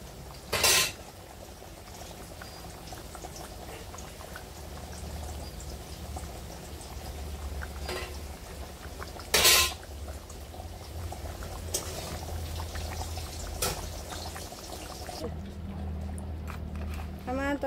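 Spicy Bengali-style mutton curry bubbles steadily in a pot, a soft continuous simmer broken by a few sharp clanks of a utensil against the pan.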